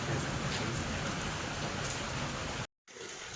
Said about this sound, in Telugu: వర్షం అయితే చాలా దారుణంగా పడింది.